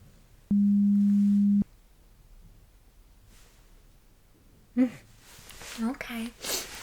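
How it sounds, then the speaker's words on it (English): A steady pure beep tone lasting about a second, played alone during an ear exam hearing test, followed later by faint soft rustles and brief crackly clicks. "tell me when you hear the first and the only beep sound"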